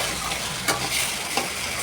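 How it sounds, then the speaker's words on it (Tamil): Onions, tomatoes and curry leaves sauté with salt in a hot pan, giving a steady close sizzle broken by a couple of soft stirring scrapes. "கொஞ்சம் உப்பு சேர்த்து நல்லா வதக்கிட்டிங்கன்னா இன்னும் நல்லாவே வதங்கிடும்"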